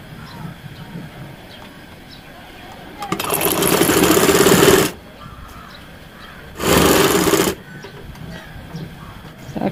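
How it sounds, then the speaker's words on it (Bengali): A sewing machine stitching a baby boy's fatua and pants runs in two loud, buzzing bursts, the first about two seconds long and the second shorter, separated by quieter room noise. "তো এখন আমি এই নিচের সাইডটাও এভাবে মুড়িয়ে সেলাই করে দিব"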